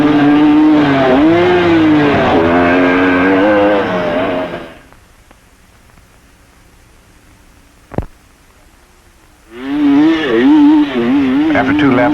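A 1972 Yamaha DT2MX vintage motocross bike roars and revs hard through a race, its engine pitch rising and falling. The engine cuts out to near quiet with a single sharp click, then surges back loud.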